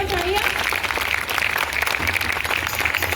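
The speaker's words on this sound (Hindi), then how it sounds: "तो आनंद के लिए एक बार जोरदार तालियां।" Audience applause for Anand at a Guru Purnima event, a steady wash of clapping from a crowd that runs throughout and is mixed with some voice and tonal sound.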